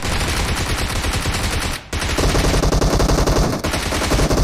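Loud, dense automatic gunfire from the PUBG Mobile video game rattles almost continuously, with a brief break before the rapid bursts resume.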